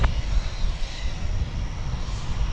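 A jet airliner cleared for takeoff at DFW Airport sends out a broad, steady engine roar with heavy low rumble, heard from a distance and continuing without talk.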